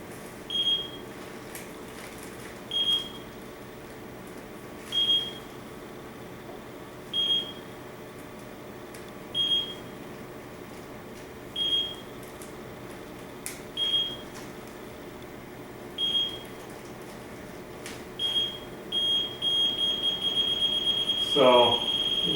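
TIF ZX-1 refrigerant leak detector with heated diode sensor sounding at R410a, giving ten evenly spaced high-pitched beeps about two seconds apart, then a rapid continuous run of alarm beeps at the end over faint background noise.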